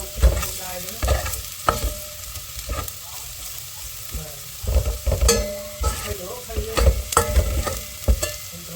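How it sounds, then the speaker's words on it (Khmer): Garlic frying in a pan over low heat for a bitter melon soup, a steady close sizzle broken by repeated sharp clanks and scrapes of stirring, with no voices. "យើងពងខ្ទឹមយើងឲ្យយើងក្រហមបន្តិចដើម្បីឲ្យវាឈ្ងុយ"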